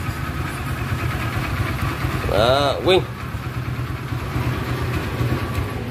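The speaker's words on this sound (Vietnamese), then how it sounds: "Em sẽ nổ máy cho chị nghe những chiếc xe này." A used Thai motorcycle at a Vietnamese secondhand dealer runs with a steady low engine rumble throughout. A voice briefly rises over it midway.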